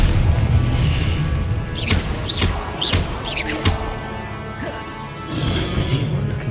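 Confringo fire spell explosions in the video game Hogwarts Legacy, a run of loud booming blasts and crashing impacts over a dense, rumbling game soundscape, several sharp bursts landing in quick succession.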